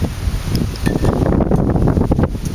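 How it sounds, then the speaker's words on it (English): Strong outdoor wind gusting steadily across the microphone, a loud, continuous rumbling rush with no voices. "Wow, it's pretty windy."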